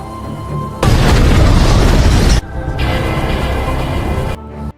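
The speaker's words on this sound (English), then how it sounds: "a mysterious man walking away from a house, which explodes." A house explodes in a film scene with a sudden loud blast, followed by a sustained roaring rumble of debris and fire that drops in level and then cuts off abruptly near the end.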